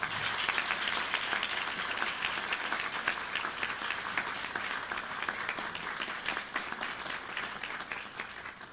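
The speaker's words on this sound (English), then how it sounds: "Give yourselves and this great cabinet and leadership a round of applause." A college freshman orientation audience applauds in a hall, steady dense clapping throughout, moderately loud and fairly even without pause.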